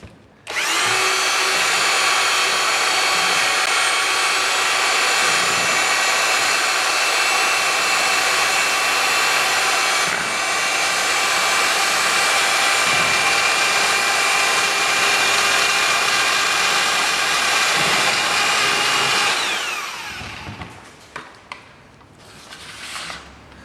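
A power drill mixing Venetian plaster whirs continuously at a steady high pitch for about twenty seconds, then winds down and stops, leaving brief scraping and knocks.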